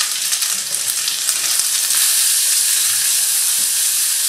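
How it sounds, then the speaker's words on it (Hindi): Grated raw papaya hits a hot pan and sizzles loudly, a steady, dense frying hiss that holds without a break and has no talking over it. "और ये कद्दूकस किया हुआ कच्चा पपीता इसमें डालेंगे।"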